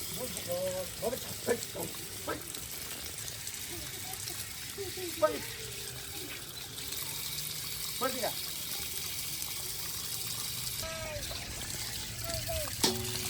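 Mutton being washed with running water at a campsite before cooking karahi, with trickling and splashing water throughout while people talk quietly nearby.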